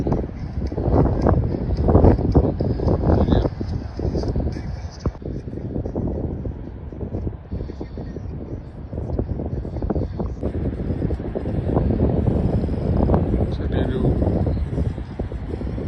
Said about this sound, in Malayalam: നല്ലൊരു ചെറിയ ലൈറ്റ് കാറ്റുണ്ട്